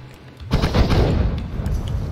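A sudden explosion in the video game Noita bursts out about half a second in, followed by a loud, crackling rumble that keeps going to the end.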